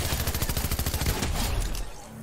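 Gunfire in the Fortnite video game rattles in a fast, steady burst of repeated shots for about two seconds, loud and close, then cuts off into a quieter tail.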